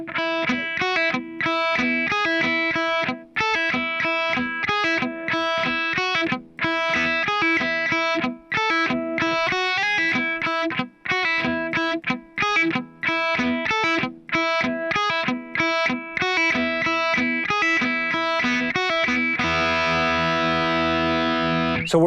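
A distorted electric guitar plays a palm-muted riff: tight, chugging chords in a steady driving rhythm, with short gaps between hits, ending on a sustained ringing chord. No voices.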